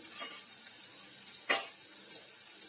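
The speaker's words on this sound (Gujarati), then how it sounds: "હવે આપણે ગ્રીન કેપ્સિકમ નાખી દઈશું અને પીળા કલરના કેપ્સિકમ નાખી દઈશું" Green and yellow capsicum going into a hot pan, giving a steady close sizzle with a sharp burst of hiss as the pieces hit the oil, then frying settling back down; no voices.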